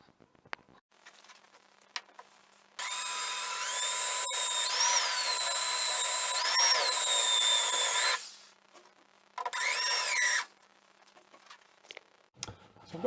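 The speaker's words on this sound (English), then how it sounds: "never actually tried drilling out spot welds before, so we'll give that a go" Power drill boring out spot welds on a classic Mini wing, a loud high whine held for about five seconds with shifting pitch, then a shorter second burst, with light clanks between.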